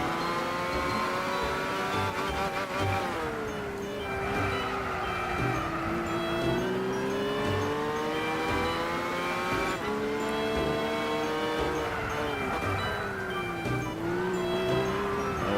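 A Lotus Esprit Turbo race car in Gran Turismo 6 drones steadily throughout, its engine note rising and falling through gear changes with continuous loud revving and no pauses.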